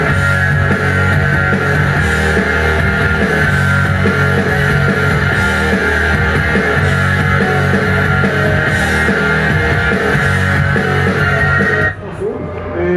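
A drum kit plays a rock song at a drumming workshop during Przystanek Woodstock 2015: a loud, continuous full-band groove with steady beats and fills, which drops away abruptly just before the end.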